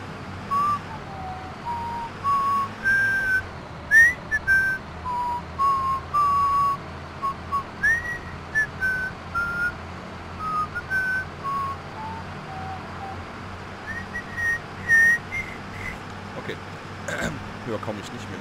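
A man whistles a wavering tune in short phrases while driving a bus in a driving game, his whistling set against a steady low engine drone.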